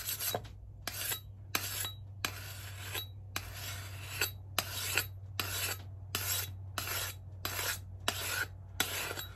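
An axe edge is filed by hand in about a dozen evenly spaced rasping strokes. Each stroke is short and gritty, with brief pauses between them, close up and alone.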